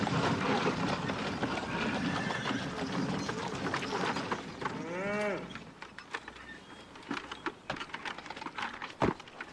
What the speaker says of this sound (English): Travis, I want to stay and watch cattle